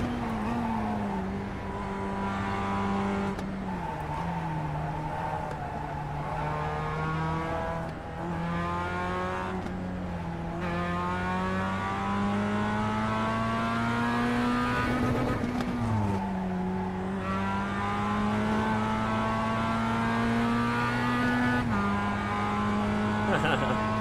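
A Mazda Miata's engine revs and accelerates around the Suzuka circuit in a racing game, a steady buzzing drone that climbs and drops through gear changes for the whole stretch, loud and continuous.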